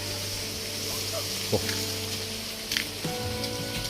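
Rain falls steadily outdoors in the wind, a constant hiss with a few faint knocks and muffled background sounds.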